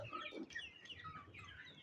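A desi rooster drinking water gives faint, short clucks and squawks in a quick irregular run, quiet and somewhat distant, with no talk.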